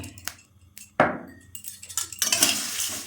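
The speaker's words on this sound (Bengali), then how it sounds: "দিয়ে নাড়াচাড়া করে নিলাম" Whole spices, including cardamom, cloves, cinnamon and nutmeg, are stirred in a pan for homemade garam masala, giving sharp metallic clinks and scrapes of a utensil, then a denser rattling rustle toward the end.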